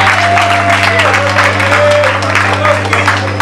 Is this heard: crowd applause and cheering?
yes